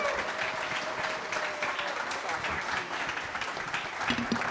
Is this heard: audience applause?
yes